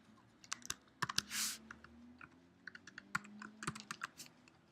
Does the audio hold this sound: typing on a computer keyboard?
yes